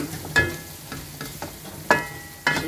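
Masala is stir-fried in a pan for a chickpea biryani pulao, with a soft constant sizzle broken by several sharp scraping clinks of a spoon against the metal, close and without talk.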